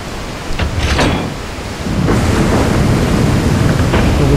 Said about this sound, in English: Flip a lever, the waterfall will open.